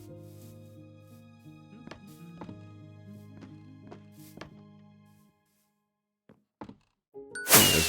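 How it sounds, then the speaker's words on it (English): A finished building in Minecraft Minecolonies rings out a series of bright chiming dings over a sustained tone. After a short quiet stretch and a couple of soft clicks, a loud crackling firework burst ends it. "There's that sound that everybody that plays Minecolonies loves to hear. It's the fireworks and the ding."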